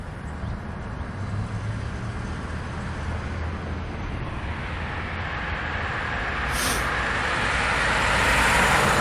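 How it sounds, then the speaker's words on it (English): Cars drive past on a downtown street without slowing, making a steady broadband traffic roar that swells louder toward the end as a vehicle comes close. "Did you see the cars aren't slowing down?"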